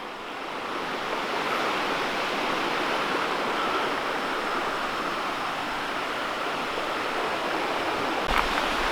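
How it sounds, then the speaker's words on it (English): A high mountain creek in Cataloochee Valley rushes steadily, a dense continuous roar of water with no pauses or voices, holding an even level from start to finish. "you can see the creek is pretty high"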